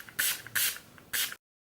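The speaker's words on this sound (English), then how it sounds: "I'm going to go in with my Urban Decay All Nighter makeup setting spray." Three quick hissing bursts of Urban Decay All Nighter makeup setting spray, close to the mic, each a short misty spritz, followed by silence.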